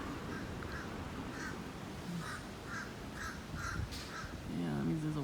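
Crows or ravens caw in a series of repeated, evenly spaced calls at a modest distance, fairly faint over a low background hiss, with another bird-like call at the end.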